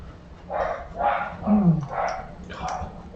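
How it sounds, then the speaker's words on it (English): A dog barks heard from a distance, five or so evenly spaced woofs in a steady rhythm, moderately loud over a low background hum. "Dog."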